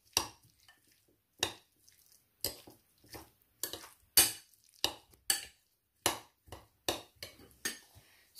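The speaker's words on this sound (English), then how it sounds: "take out the toast and start mixing it" Avocado being mixed in a bowl for avocado toast: a utensil knocks and scrapes against the bowl in a steady series of close, sharp taps spaced about half a second to a second apart.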